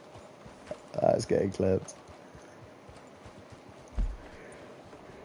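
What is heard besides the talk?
horse hooves clip-clopping in a video game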